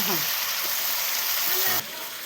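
Meat frying in a pan in a village kitchen, a loud continuous sizzle with stirring scrapes, then dropping to a softer hiss near the end; a voice speaks over it.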